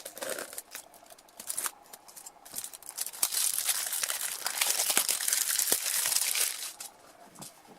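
Scissors cut open the plastic packaging of a Joyetech Ocular C vape kit, with close, quiet crinkling and snipping, scattered sharp clicks and rustles.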